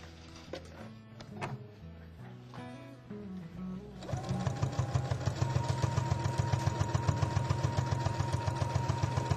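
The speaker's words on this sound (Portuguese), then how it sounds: "eu vou costurar exatamente em cima do risco" A sewing machine stitches along a marked line through fabric layered on a quilt batting, starting after a few seconds of light handling noise and then running steadily with a fast, even mechanical rhythm, close and fairly loud.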